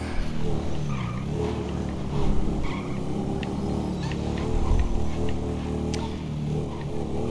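A motorbike engine drones steadily in GTA 5 with a mod installed, a continuous mid-loud revving hum with slight surges and small clicks, no voice over it.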